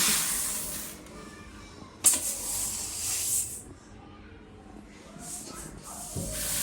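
A home electric flour mill grinds wheat with a continuous airy whooshing hiss that swells and dips, broken by a sharp knock early on, heard close with no clear talking.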